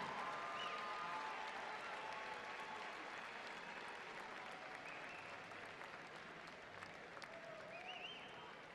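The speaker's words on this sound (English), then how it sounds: "please join us now as we honor with a warm round of applause Curtis Pettingill of Kaysville" Sustained crowd applause filling an arena at a high school state tournament basketball game, dense clapping at fairly low level that holds steady and fades slightly, with a few faint whistles and cheers.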